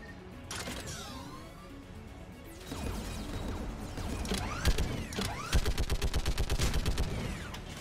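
Turret gunfire in Mass Effect 3 Legendary Edition, starting after creaking mechanical game sounds, then building into a fast, steady stream of rapid repeated shots that grows louder toward the end, with no talk.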